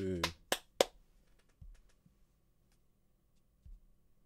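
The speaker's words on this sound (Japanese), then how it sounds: "拍手" Three quick sharp claps in a horror video game about the hide-and-seek ritual, crisp and close, followed by a few faint low thuds amid quiet.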